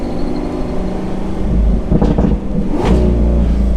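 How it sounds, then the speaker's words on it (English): A 6.5-liter V12 in a Lamborghini Aventador S Roadster revs sharply twice over a steady loud idle, its naturally aspirated bark rising and falling close by with no talking. "That V12 is just so iconic. And I think it is one of the great engines of our lifetime, of our era."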